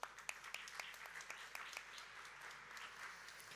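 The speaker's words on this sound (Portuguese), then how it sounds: "para quem eu peço uma salva de palmas." Applause from an event audience, fairly faint and distant, with a few sharper claps at the start before settling into an even patter.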